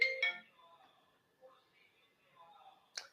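A mobile phone ringtone goes off during a chemistry class, short bright tonal bursts at the start and again near the end, fairly loud against an otherwise quiet room.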